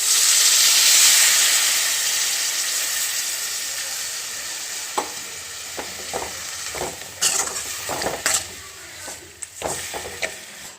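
Tamarind water goes into a hot pan for a chilli mandi. A loud hiss and sizzle at the start eases into a softer simmer, broken by scattered stirring knocks and scrapes close by.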